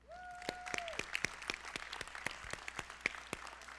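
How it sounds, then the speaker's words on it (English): Scattered applause for teachers at a Pearce High School graduation in 2022, sparse individual claps spread through a large space, fairly quiet and thin, with a brief sung or spoken tone near the start. "Please, a round of applause for all those teachers and every other incredible teacher at Pierce."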